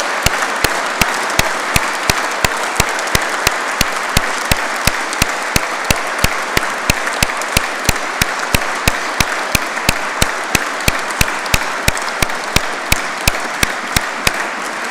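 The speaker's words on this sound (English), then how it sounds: "The applause you've just heard this evening from all 220 people in this great hall" A great hall of about 220 people at a Royal Engineers awards evening breaks into continuous applause. Dense clapping is punctuated by a steady, rhythmic run of sharp, loud claps for fifteen seconds.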